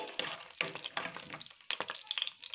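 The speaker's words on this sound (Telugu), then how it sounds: "ఇవి నేను సిమ్లో పెట్టి వేయించుకుంటున్నాను" Peanuts frying in oil over a low flame, with faint sizzling and irregular scraping stirs of a utensil in the pan, quiet and close.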